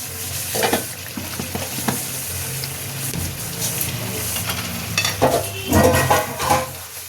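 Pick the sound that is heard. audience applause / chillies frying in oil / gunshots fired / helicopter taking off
chillies frying in oil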